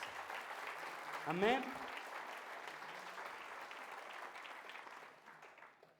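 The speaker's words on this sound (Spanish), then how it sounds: "No sé si puede dar un aplauso fuerte al Señor y darle gracias" A church congregation claps loudly in praise during a Spanish-language sermon on marriage, a dense, sustained burst of applause with a voice calling out over it, then the clapping continues steadily before tapering off near the end.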